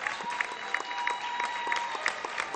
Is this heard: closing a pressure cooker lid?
no